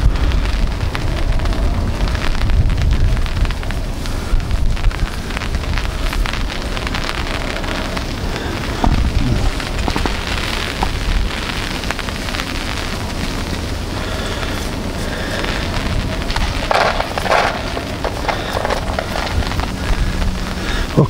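Rain falls steadily outdoors at a fishing spot, making a continuous dense patter with scattered louder drops. It stays at an even moderate level throughout with no voices.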